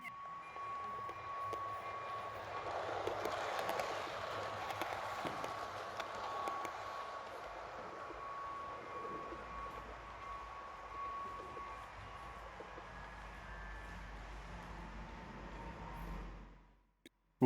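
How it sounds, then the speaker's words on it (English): A low, steady rumble of a model train starting to move, faint and distant, holding for a long stretch before fading out. "As the train sets off"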